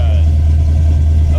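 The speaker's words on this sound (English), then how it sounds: "Okay, this thing sounds like an old muscle car." An LS1-powered 1969 Camaro V8 rumbles close by with a deep, steady, throbbing low burble, while a voice talks over the engine.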